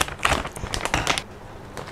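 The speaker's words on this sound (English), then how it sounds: "I'm gonna get a pair of scissors to open it." Sharp scissor snips and crinkling plastic up close, a quick cluster of cuts through a corn chip snack packet followed by a brief rustle.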